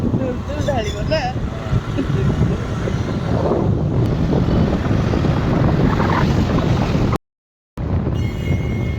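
Strong wind roars continuously into the microphone as a broad, heavy rush, with voices faintly beneath it and a brief dropout near the end.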